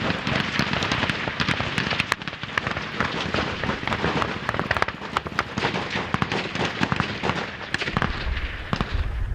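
Rapid, dense cracks of gunfire rattle on without pause, many overlapping shots near and far forming a continuous crackling barrage.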